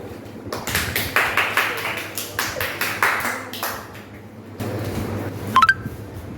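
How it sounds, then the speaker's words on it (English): Quiz-show audience claps for a contestant, a burst of roughly even, rhythmic claps that gradually taper off, followed by a few short electronic beeps near the end. "Clap for Hassan."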